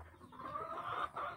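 Chickens cluck softly up close, a run of low, throaty clucks with a faint farmyard murmur behind them.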